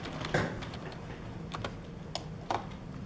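Computer keys are tapped in short, irregular clicks on a keyboard during AutoCAD dimensioning work, a few sharper strokes standing out over a low room hum, with no voices.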